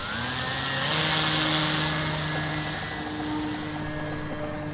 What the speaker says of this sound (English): Oh, the propeller's spinning the wrong way.